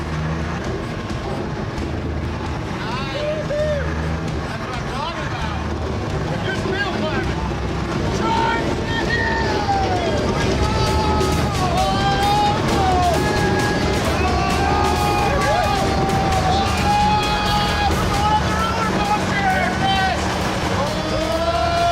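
A turbocharged Detroit diesel engine drives an M548 tracked cargo carrier with a continuous heavy rumble and clatter, loud and steady, rising slightly midway, with tracks rattling and whining underneath.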